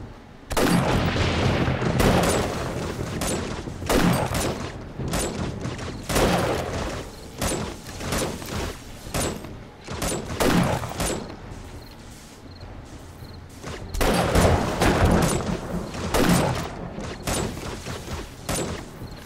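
Repeated gunfire against zombies during a horde night in 7 Days To Die, loud bursts of shots in irregular clusters across the whole stretch, with brief pauses between volleys.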